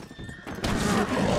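A horse in the Red Dead Online video game gives a short whinny, followed by a sudden louder burst of broadband noise like a thud or crash, with no speech.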